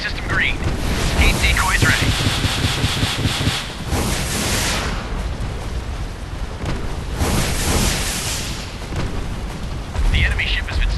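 Heavy rumbling explosions and booming wash as an enemy ship sinks in a naval battle in the game Warship Mobile 2, loud dense blasts surging in waves across the clip, with speech mixed in.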